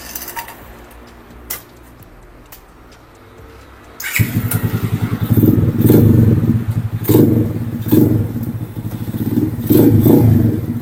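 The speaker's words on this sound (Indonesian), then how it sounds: "cek sound kali ya untuk si gas-gas Gorilla" A Gazgas Gorilla 100cc mini motorcycle idles quietly with a few light clatters, then its small engine rumbles up loudly, revving in repeated surges close by.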